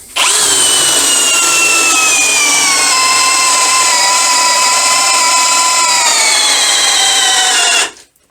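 A loud Einhell TP-CD 18/120 cordless impact drill runs steadily for several seconds in second gear, its whining pitch slowly dropping under load as a spiral bit bores into wood, then stops.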